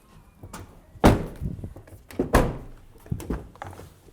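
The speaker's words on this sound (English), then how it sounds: "let's close all the doors" Doors on a 2024 Honda Prologue electric SUV are shut one after another, two solid, heavy thunks standing out among lighter clicks and latch knocks, close by and with no talking.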